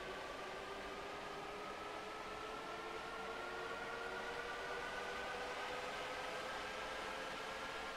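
A DB BR 1442 electric commuter train pulls away in the Train Sim World rapid-transit simulator, a steady broadband rumble and hiss with rising motor tones whining upward, close and continuous with no talk.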